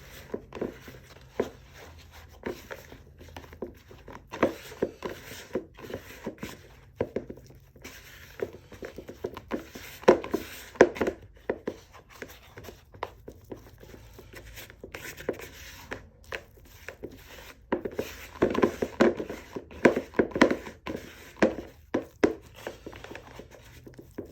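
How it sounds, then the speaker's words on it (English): Dry flour being stirred into a sourdough leaven in a bowl: steady soft scraping and tapping of the utensil, close and quiet, in a continuous irregular rhythm with no talking. "So we just want to stir, get this dry flour to be incorporated."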